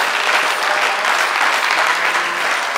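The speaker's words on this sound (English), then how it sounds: "a big applause for our Vice Chancellor" Audience applause at a business summit in Enugu, steady dense clapping from a sizable crowd, loud and continuous throughout with no voices on top.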